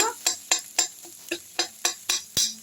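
Egg being stir-fried and broken into small bits in a pan for vegetable egg fried rice: a quick regular series of about ten sharp scraping strokes over a faint sizzle, close and without talk.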